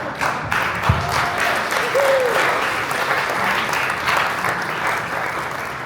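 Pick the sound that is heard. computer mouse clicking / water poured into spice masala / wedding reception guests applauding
wedding reception guests applauding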